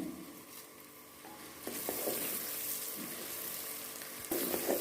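Whole spices such as bay leaf, black cardamom, cumin and cloves drop into lightly fried onions, giving a soft crackling sizzle with a few louder bursts and stirring scrapes, fairly quiet overall.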